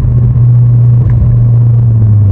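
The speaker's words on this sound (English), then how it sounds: "The exhaust, the Scorpion system sounds beautiful." A Vauxhall Astra VXR fitted with a Scorpion exhaust idles close by in a loud, steady low rumble, one brief blip near the middle, no voices heard.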